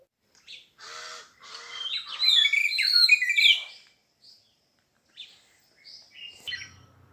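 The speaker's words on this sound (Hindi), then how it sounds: "जो परिंदे बोल रहे हैं, चहचहा रहे हैं" Morning birdsong by a large lake in a Rwandan village, with bursts of chirping and tweeting that peak loudly mid-clip, then sparser, fainter calls.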